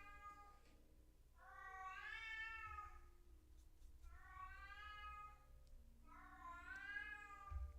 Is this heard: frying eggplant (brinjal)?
no